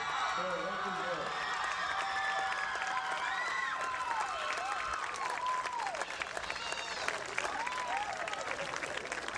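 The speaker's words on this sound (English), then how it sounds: "How about a nice round of applause for Rocky Hill?" A crowd at a state softball championship game applauds and cheers the Rocky Hill team, a continuous roar of clapping with whoops and shouts rising over it, while voices talk through the noise.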